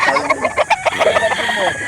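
Gamefowl roosters at a poultry market in Calauan crowing and clucking: a dense, close chorus of overlapping crows and sharp clucks, rhythmic and fairly loud, with possible voices mixed in.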